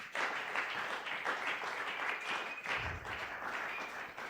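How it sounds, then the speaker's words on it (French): A church congregation at a Sunday worship service breaks into sustained, dense applause that stays steady throughout, fairly faint. "Acclamons pour la gloire de notre Dieu."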